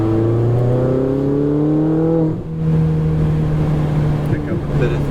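A Ferrari 488 GTB engine on a race track, steady loud droning note with rising tones as the throttle rolls on, a brief dip midway, heard from inside the car.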